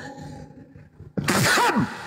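A single loud, forceful sneeze bursts out suddenly, lasting about half a second after a quieter stretch of low background murmur.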